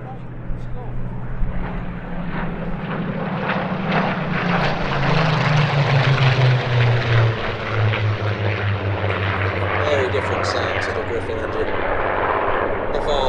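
Several Supermarine Spitfire FR-14 fighter-reconnaissance aircraft taking off at the Sywell airshow, a loud, sustained propeller-engine roar that swells and shifts in pitch as they climb away, with an announcer talking over it.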